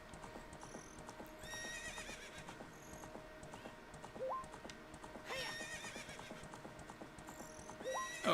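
Horse hooves clip-clop steadily in Zelda: Ocarina of Time, with a few neighs and whinnies rising over looping game music and chime effects.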